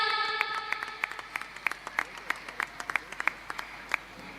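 Audience applause at a school's annual prize distribution: a steady crowd of clapping hands with sharper individual claps standing out, moderately loud and sustained throughout, no talking over it.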